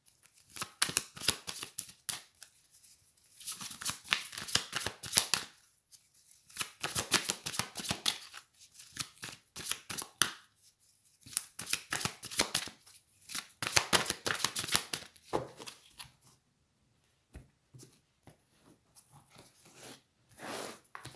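Sacré-Cœur oracle cards being shuffled, repeated bursts of crisp riffling and flicking in close, fairly quiet bouts separated by short pauses, with no voice.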